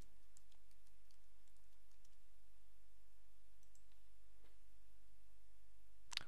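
Soft, scattered keystrokes tap on a computer keyboard while a captcha is typed, faint and irregular against quiet room hiss, ending with one sharper click, with no talking.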